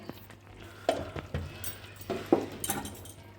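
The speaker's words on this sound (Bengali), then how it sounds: "এবার চিকেনটা আমি ভালো করে কষিয়ে নেব।" Chicken pieces sautéing in a pan with ground cumin and coriander: a soft, steady sizzle under intermittent scraping and clinking of a spatula stirring against the metal, fairly quiet and close.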